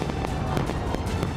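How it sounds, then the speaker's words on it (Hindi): Fireworks burst over Luzhniki Stadium in Russia, celebrating France's World Cup final victory, with loud, dense crackling and repeated sharp pops in a continuous roar. "जीत की घोषणा होते ही रूस के ल्यूसिंकी स्टेडियम में फ्रांस के लिए जबरदस्त आतिशबाजी की गई।"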